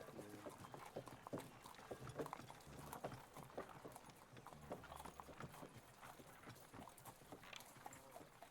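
Horse hooves clip-clop steadily in an ambient city street scene with horse traffic and carts, several animals' footfalls overlapping at a quiet, moderate distance.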